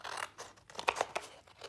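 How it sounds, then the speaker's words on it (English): Scissors snip through folded paper, cutting a thin strip in a series of close, crisp crunching cuts with short pauses between strokes, heard alone without voices. "Took some scissors and I cut a 1/2 inch strip the tall ways"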